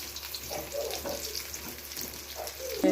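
Potato pakoras frying in hot oil give off a steady, close crackling sizzle with small bubbling pops throughout, and no one speaks.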